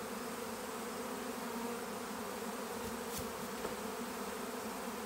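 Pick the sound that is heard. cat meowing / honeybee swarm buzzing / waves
honeybee swarm buzzing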